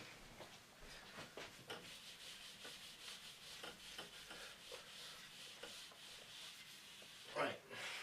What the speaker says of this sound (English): Now I'm going to rub that out now.